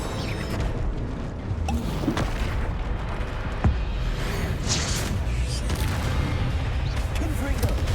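Spell blasts from Incendio and Bombarda go off in Hogwarts Legacy during a spell-heavy fight. The impacts are dense, continuous and loud, one slightly sharper hit standing out partway through, with a spoken voice over the top.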